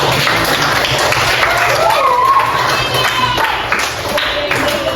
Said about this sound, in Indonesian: Beri tepuk tangan untuk Aldi.